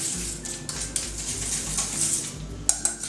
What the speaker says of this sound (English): Give it a little whisk round.